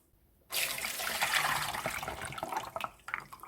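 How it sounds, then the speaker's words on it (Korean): Water from soaked burdock root rushes suddenly through a kitchen sieve, a loud splashing pour that tapers into trickles and drips. "물에 담아두었던 우엉은 체에 받쳐서 물기를 빼세요."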